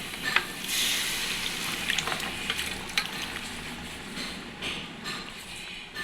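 Precooked country chicken curry goes into hot oil, setting off an uneven sizzle with bursts of crackling and spattering pops that rise and fall, close up and fairly loud.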